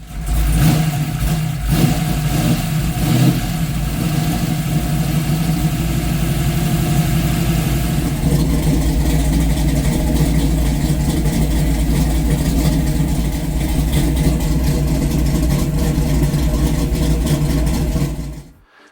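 A Ford Fox body Mustang engine runs close by, revving loudly in the opening seconds and then settling into a steady, rumbling idle that holds until it cuts off abruptly at the end.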